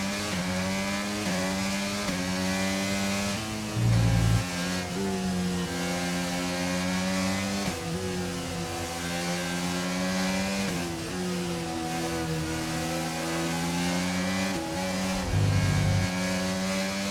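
Race car engines on the final lap in the F1 23 video game, a sustained high buzzing engine drone with gear-shift pitch sweeps rising and dropping, loud and continuous throughout with occasional heavier low bursts.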